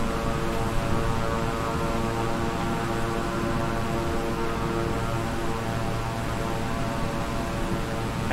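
Twin-engine King Air 350i turboprop airplane in Microsoft Flight Simulator, a steady loud engine drone with constant tonal hum running unbroken throughout, no voices.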